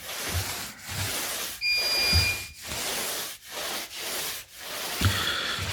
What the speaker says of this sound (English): you have to just roll it very smoothly on the whole surface